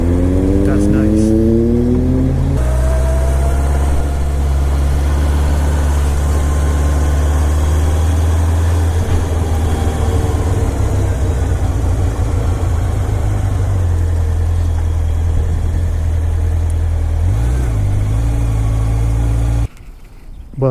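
A Honda Nighthawk CB750 motorcycle engine idles loud and close, a steady low throb with a slight rise in revs partway through before cutting off near the end.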